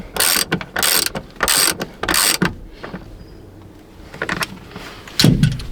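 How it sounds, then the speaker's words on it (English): A ratchet tightens a seat harness bolt inside a BMW E46 330Ci, with several quick loud clicking bursts, then a quieter pause and a few more clicks up close. "The only way is to tighten it and see."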